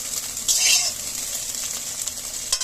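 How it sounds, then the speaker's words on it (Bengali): Egg frying in a pan while chow mein is cooked at home: a steady, bright sizzle holds throughout, with a short louder crackle and scrape near the start and a brief tap near the end. "ডিমটা প্রায় দেখতেই পাচ্ছ ভাজা হয়ে গেছে"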